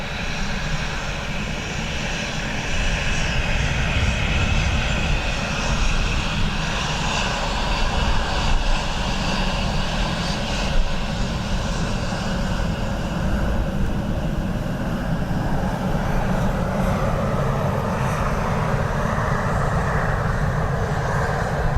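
An Embraer E190 jet at Dublin Airport on a crosswind day, its engines roaring loud and steady for over twenty seconds with a sustained low rumble and droning whine, no talk over it.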